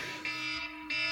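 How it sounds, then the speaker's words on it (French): An alarm clock rings with a steady, shrill electronic tone that pulses slightly in intensity, loud and close with no talking over it. "Oh, le réveil."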